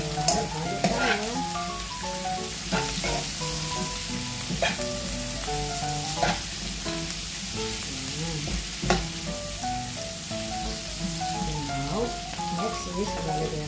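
Sauce for salmon steak sizzles and spatters steadily in a frying pan while a utensil stirs it, with scraping and clinking strokes recurring over the continuous close frying hiss.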